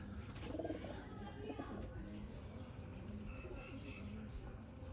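Teddy pigeons coo softly amid faint chirps and low background rustle, fairly quiet and close.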